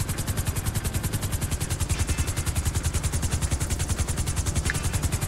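Helicopter in GTA Online flying at night near Mount Chiliad, a steady rapid rotor chop pulsing evenly throughout, loud and close with no other sounds over it.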